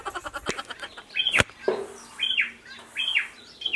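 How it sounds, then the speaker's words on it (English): Birds chirp outdoors in short bright repeated calls, a few seconds apart and fairly close, mixed with a couple of sharp knocks and clatters. "Look at these birds."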